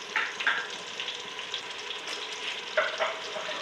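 Whole spices, black and green cardamom and cloves, drop into onion frying in a pan for a mutton curry, giving a steady crackling sizzle with a few louder spits and stirring scrapes and no talking.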